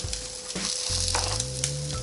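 Bratwurst sizzles on a NuWave Jubilee smokeless grill, a steady close frying hiss with brief clatter as links are set down, a low hum running underneath.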